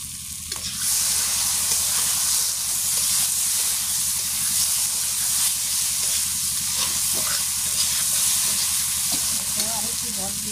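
Potatoes sizzle in a pan of frying spice masala, a steady loud hiss with crackle and occasional stirring scrapes that continue unbroken throughout.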